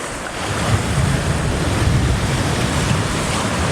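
Loud, continuous roar of ocean surf breaking into white water around coastal rocks in Okinawa, a dense hiss with wind buffeting the microphone throughout.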